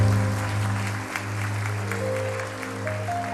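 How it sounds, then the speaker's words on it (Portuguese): A church congregation applauds during a service, a steady patter of clapping over sustained low keyboard or organ tones that continue throughout. "Uma salva de palmas para ele."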